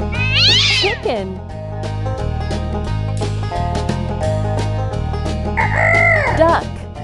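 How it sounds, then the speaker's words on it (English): A cartoonish chicken call from a farm-animal matching game: a squawky, clucking fowl cry opens the clip and another bursts in near the end, both layered over a steady, bouncy background music loop with no talking. "Chicken."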